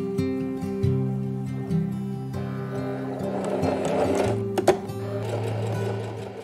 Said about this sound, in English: assemble them on the sewing machine